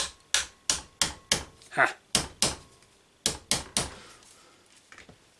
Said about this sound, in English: Hitting stuff with a hammer